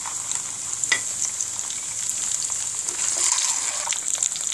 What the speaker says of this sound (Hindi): फ्राई पैन में घी डालेंगे और इसमें हम डालेंगे अब प्याज, और साथ ही हम इसके अंदर उबले हुए अंडे डालेंगे